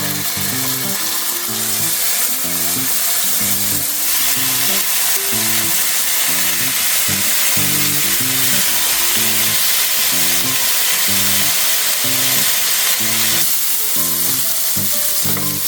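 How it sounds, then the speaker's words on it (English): Pork steaks sizzle loudly and steadily in a hot pan, a constant crackling hiss with a low rhythmic mechanical hum underneath. "Once it's nicely heated, drop in your pork steaks."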